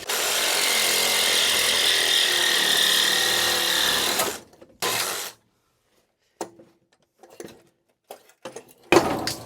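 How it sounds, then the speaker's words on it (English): A small one-handed Sawzall reciprocating saw cuts through metal on a damaged 1964 Chevrolet pickup, buzzing loudly and steadily for about four seconds, then a short burst followed by scattered clanks and knocks. "Maybe I can get it with the Sawzall. The little one-hander."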